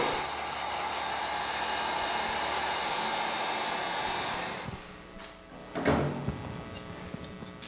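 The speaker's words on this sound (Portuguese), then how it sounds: "E vou usar mais um pouco o meu soprador." A heat gun blower drying putty on a remote control holder runs as a steady loud rushing roar for about four seconds, then cuts off, leaving brief handling knocks and rustles.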